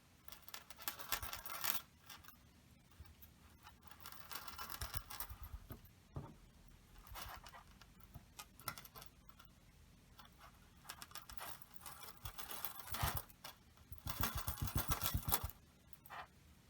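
A tangled metal necklace chain is wiggled and pulled by its clasp, producing faint, close, intermittent tinkling and light rattling bursts with quiet gaps between them.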